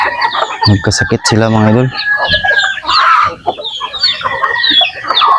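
Chickens and young chicks on a Filipino backyard farm cluck and cheep in scattered bursts, with a rooster-like call early on, under someone talking throughout.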